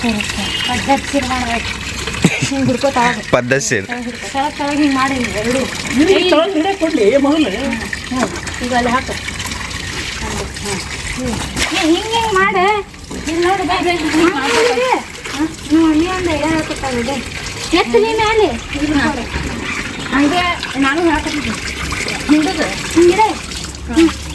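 Water pours and splashes at home, a continuous gushing wash with uneven surges, heard close while several people talk loudly over it throughout.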